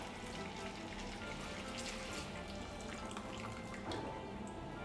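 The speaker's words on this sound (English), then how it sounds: "we're just going to pour in our syrup mixture" Hot syrup mixture is poured into parkin batter in a home kitchen, giving a steady liquid splashing and trickling noise, close and fairly even throughout.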